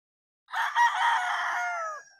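A bulik stag rooster crows once, a single loud, near cock-a-doodle-doo lasting well over a second before trailing off, with no voices.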